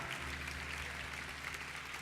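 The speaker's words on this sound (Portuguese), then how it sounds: "Enquanto vocês saem nós vamos aplaudir mais uma vez" A church congregation at an evangelical preaching service applauds, a soft, continuous patter of many hands heard from a distance under a low hum.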